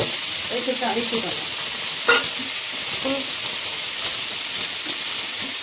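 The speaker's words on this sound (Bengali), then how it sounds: "দুটো ব্রেড তাহলে তুমি সেঁকে নাও" Two slices of bread toast on a hot tawa with a soft, steady crackling sizzle and a sharp clink of utensil near the middle; faint voices murmur briefly.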